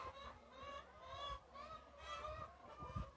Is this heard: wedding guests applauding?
no